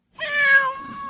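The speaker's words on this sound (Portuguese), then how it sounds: "Olha o barulho do gato." A single cat meows once, clear and close, a rising then gently falling cry heard alone against silence.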